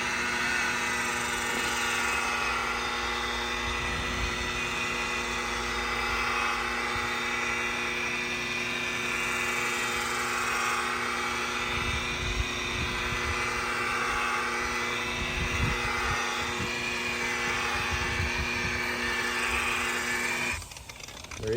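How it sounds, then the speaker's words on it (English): Power buffer working compound into the hazy gelcoat of a Cobalt 292 boat, a loud, steady whirring drone with a constant motor tone that runs almost the whole time and drops off right at the end. "we're gonna start buffing this out and get that haze off"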